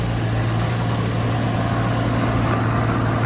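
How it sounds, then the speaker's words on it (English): A Nissan R34 Skyline sedan engine with no modifications idles smoothly, a steady low hum with a constant drone, close and unchanging, with no talk. "Engine running, no issues, doesn't make any sounds, it fires right up"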